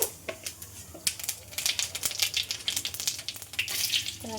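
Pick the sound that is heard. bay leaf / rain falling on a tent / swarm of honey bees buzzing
bay leaf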